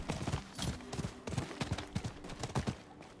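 Rhythmic hoof clip-clops from a spectral horse mount in Diablo 4 at a steady trot, fairly close, with a busy game-like backdrop and no talking.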